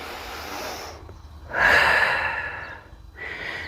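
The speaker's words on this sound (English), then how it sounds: "Few rounds of breath here." Deep, slow breaths during a held yoga-inspired calisthenics pose: a long exhale, a louder full inhale, then another breath starting, close and breathy with no talking.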